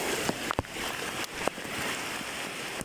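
Strong knee-deep floodwater current left by typhoon Karina rushes as a faint, continuous hiss, broken by a few brief knocks and splashes.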